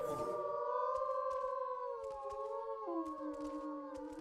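Layered wolf-like pack howl in a dinosaur video game, several sustained tonal voices overlapping and shifting pitch, with faint clicks beneath.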